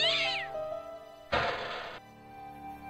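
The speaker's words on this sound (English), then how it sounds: "Nope, just a cat." A cat meows in Broken Sword: The Shadows of the Templars, a rising mewl at the start and then a second louder, harsher yowl, set against steady game background tones.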